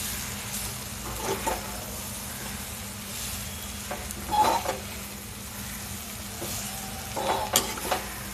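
Boiled brown rice is stirred into a vegetable pulao in a pan, the spoon scraping in soft repeated strokes over a low sizzle of the oil, close and fairly quiet with no talk.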